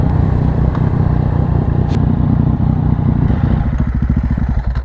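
A Yamaha MT-09 SP motorcycle rides along with a loud, close, steady engine drone and low rumble, the throttle easing slightly toward the end.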